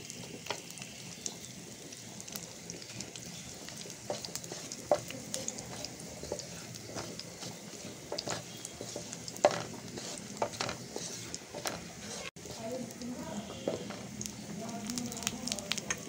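Dried chilies fry in hot oil in a pan, a soft steady sizzle with scattered crackles and occasional utensil clinks, while a person speaks at moments.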